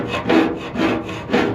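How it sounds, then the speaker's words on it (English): Metal scraper with a knife-like edge scraping bubbled paint off a rear quarter panel of a car, three loud rhythmic rasping strokes, close up, with no talking. "I'm using like a metal scraper with like a knife edge pretty much"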